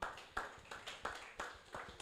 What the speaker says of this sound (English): A round of applause for Emmanuel